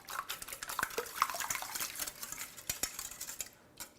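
Eggs with salt and pepper for an artichoke spinach frittata are whisked in a bowl, producing quick, irregular clinks and taps of utensil against dish, close and fairly quiet.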